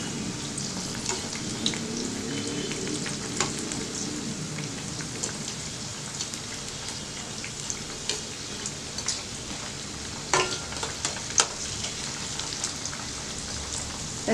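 Horsegram masala vada fry in oil over a medium flame, a continuous soft sizzle and bubbling with scattered pops and a few louder crackles, heard alone.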